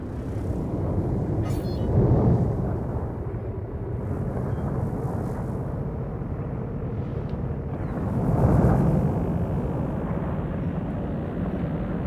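A spaceship flyby near Mercury in Elite Dangerous Horizons, a dense, steady roaring rumble that swells twice into louder whooshing passes, continuous and without speech.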